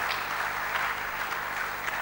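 A church congregation claps after the scripture reading with steady, even applause from many hands, filling the room the whole time with no pause.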